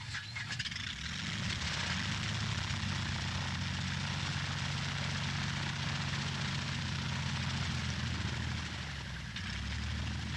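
A 1930s Schneider Trophy racing aeroplane powered by a 1,000 horsepower Fiat AS3 engine, droning steadily and loudly with a deep propeller hum that holds throughout without a break.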